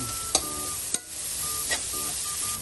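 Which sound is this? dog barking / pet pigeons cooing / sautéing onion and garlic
sautéing onion and garlic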